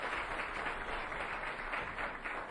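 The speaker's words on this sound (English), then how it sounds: "Now you can applaud." Crowd applause at a street pitch event, a steady, faint wash of clapping lasting a few seconds.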